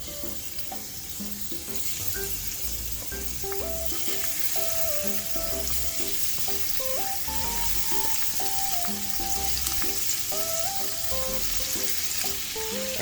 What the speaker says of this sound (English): Once the oil is heated up, you're gonna start adding your shrimp.